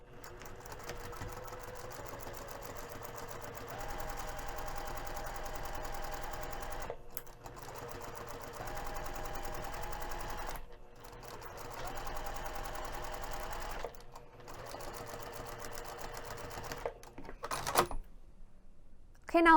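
A sewing machine stitches the side panel seam of a fabric tote bag, a steady fast mechanical whirring run in several long bursts separated by brief stops, close and even in level, with a voice talking over it.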